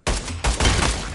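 Gunshots in the Pavlov VR shooting video game, loud and close, heard as a couple of sharp reports that merge into a dense, sustained burst of fire, with no voices.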